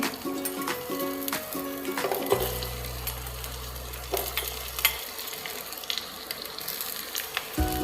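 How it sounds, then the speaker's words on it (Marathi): Okra shallow frying in oil in a pan, with a steady close sizzle and crackle, occasional clinks of a utensil, and a low droning hum for a few seconds in the middle. "इथे मी शॅलो फ्राय करून घेते"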